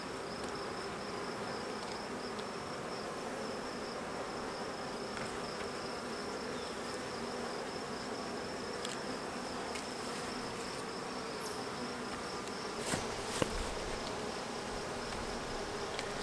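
Honey bees buzz steadily around an open hive, a continuous close droning hum that persists throughout, with a brief louder knock near the end.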